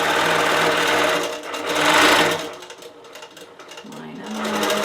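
A sewing machine runs in bursts while back stitching during ruler work quilting, a loud continuous mechanical whir that rises, slows and stops, then a brief high whine near the end.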